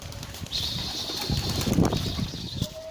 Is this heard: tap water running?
no